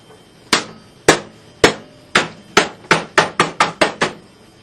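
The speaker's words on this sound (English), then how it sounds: "I need the small hammer." A small hammer strikes during PC repair, about eleven sharp taps, spaced at first and then quickening into a tight run, close and alone without talk.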